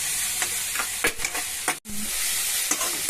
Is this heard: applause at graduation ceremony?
no